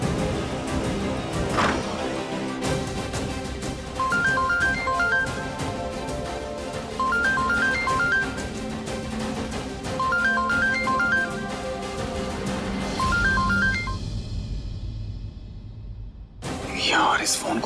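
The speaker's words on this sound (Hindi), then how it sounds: "हम मीरा को कॉल करके बता देते हैं, वरना उसे बुरा लगेगा।" A phone ringback tone repeats in a steady pattern of short two-note electronic beeps, four bursts spaced about three seconds apart over a low background hum, then cuts off abruptly near the end.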